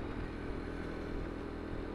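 A motorcycle engine labours uphill in a steady, loud drone with a slight rattle, close by and continuous with no speech.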